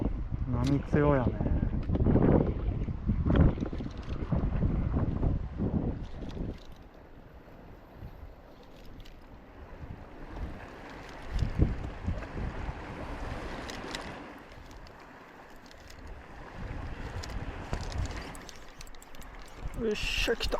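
Strong sea waves wash against an island shore in steady surges under gusting wind noise, with people talking nearby throughout.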